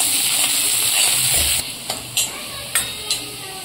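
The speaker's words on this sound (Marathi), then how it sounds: "त्यानंतर आपला हा कांदा चांगला लाल होईपर्यंत परतून घ्यायचा।" Onion fries in oil with a pinch of caraway seeds while being stirred in a pan until reddish-brown: a loud, steady sizzle with several distinct scraping stirs toward the end.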